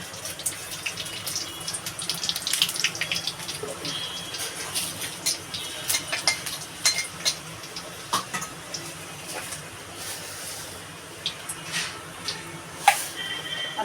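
Dried red chillies and five-spice seeds fry in hot oil for a Bengali shukto, a steady close crackle and sizzle with small irregular pops throughout and no voices.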